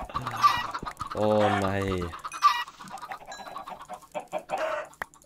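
Minecraft chickens cluck in quick, repeated bursts with one longer drawn-out call, loud and close, while a person speaks briefly.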